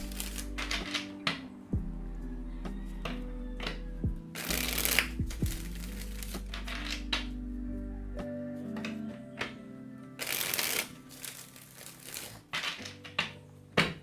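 A tarot deck is shuffled by hand during a card reading, with repeated bursts of riffling and sliding cards up close, set over a soft, steady background hum.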